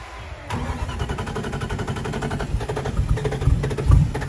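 A Jeep Grand Cherokee 5.2-litre V8 running on ethanol with programmable management cranks and fires at about half a second, then settles into a loud, uneven cold idle with rising revs and bursts toward the end, heard close and alone.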